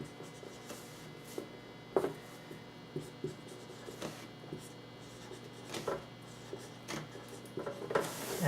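Marker or chalk scratching and tapping on a board held low, faint irregular strokes and clicks spread through a quiet room with brief gaps between.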